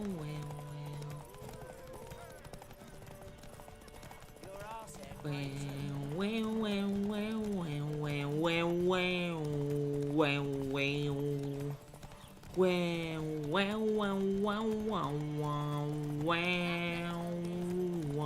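Roach, Geralt's horse in The Witcher video game, gallops in a steady clip-clop of hooves beneath continuous music and a talking voice, with the rhythm running through most of the stretch.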